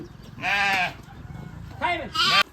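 Lambs and sheep bleat in a pen, two loud, close, wavering cries separated by a short gap, with soft flock noise underneath.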